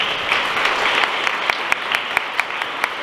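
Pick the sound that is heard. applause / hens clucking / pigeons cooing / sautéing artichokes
applause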